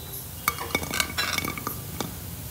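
Fried methi muthiya being lifted out and set onto a plate, light metallic clinks and scrapes of a utensil against a pan and dish, close and fairly quiet.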